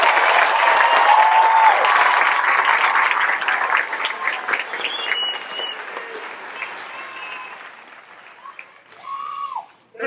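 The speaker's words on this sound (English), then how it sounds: "Let's give them a round of applause as well." A crowd at an airman's coin and retreat ceremony claps loudly for the graduating airmen of the 319th Training Squadron, a dense, sustained round of applause that gradually thins and fades, with a few scattered claps at the end.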